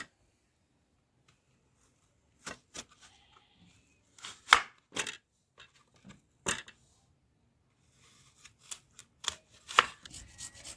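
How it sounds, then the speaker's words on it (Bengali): A knife chops washed apples into pieces on a board for apple chutney, with sharp, irregular close thuds in scattered bursts separated by quiet pauses. "দেখুন বন্ধুরা, এগুলো আমি আপেলগুলো সব কেটে নিয়েছি টুকরো টুকরো করে।"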